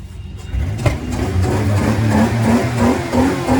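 A 1995 Dodge Caravan SE engine is revved up hard, rising from idle into a loud, strained, sustained roar close by.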